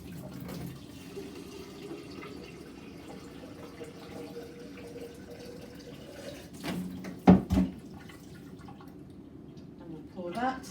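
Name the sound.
cold water running from a tap into a cylinder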